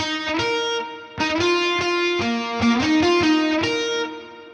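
A bright, distorted synth-like guitar lead plays a short melodic phrase of plucked notes, thick and layered, with no voices.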